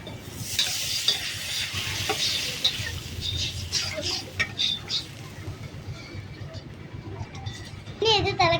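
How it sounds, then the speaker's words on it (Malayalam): Water poured into a hot pan of noodle masala with chilli powder and meat masala bursts into a loud, close sizzle and bubbling hiss, then settles into steady frying with a few stirring scrapes. "അടുത്തതായി നമുക്ക് വെള്ളം ഒഴിച്ച് കൊടുക്കാം."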